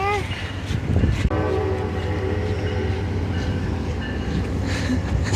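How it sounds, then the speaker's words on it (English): An Amtrak train passes into a tunnel near Harpers Ferry on the Appalachian Trail, giving a steady close rumble with a sustained horn-like tone throughout and a sharp clunk early on. "The Amtrak went in there."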